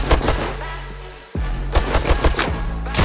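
Rapid automatic gunfire from the video game Bullet Rain, loud dense bursts of shots with a brief pause before firing resumes, close and alone.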